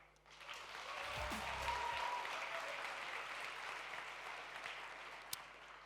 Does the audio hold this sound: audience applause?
yes